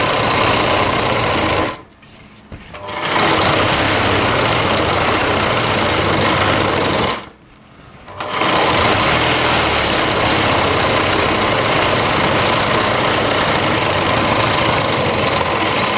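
A sewing machine stitches a lehenga in long, loud, steady runs close by. It halts twice for about a second each time, then resumes.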